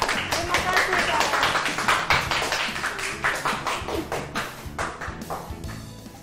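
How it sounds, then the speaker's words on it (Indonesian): Classroom of children clapping together in a burst of applause, dense overlapping claps near and loud at first, then thinning into scattered claps as it dies away. "Tepuk tangan buat Kara."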